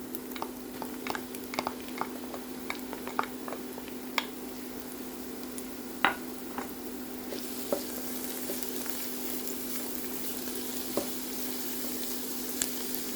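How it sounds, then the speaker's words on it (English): Onion and garlic frying in a pan until brown, a steady quiet sizzle dotted with sharp pops and crackles, close up and without talk. "Fry the onion until it turns to brown. Now let's add the garlic."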